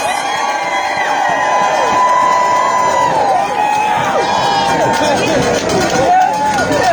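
A large outdoor political rally crowd cheers, whoops and shouts steadily in the rain, a loud continuous roar of many voices with rising yells throughout.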